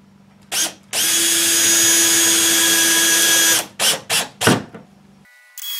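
A power drill drives screws into glued DIY shelving: one sustained whining run of about three seconds, then several short bursts of trigger pulses, close and loud with no talk.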